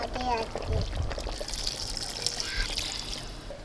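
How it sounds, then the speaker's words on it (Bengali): Water pours into a clay pot of chicken curry cooking over a coal stove, a short splashing trickle up close, with a voice talking over it. "এবার পুরোনো মতো জল দিয়ে ঝোল করে নেবো"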